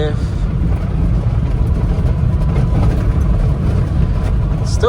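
A car engine roars steadily up close as it accelerates hard through the gears, a loud, continuous low drone with no clear breaks between shifts.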